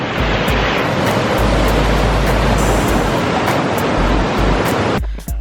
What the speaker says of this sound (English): check out this awesome part of the waterfall